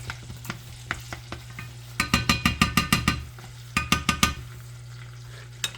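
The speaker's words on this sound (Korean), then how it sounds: "한번 뒤적뒤적하고" Garlic sizzling in oil in a pan for gambas al ajillo, stirred in quick bursts of rapid scraping strokes, close and clear, with a steady frying hiss underneath.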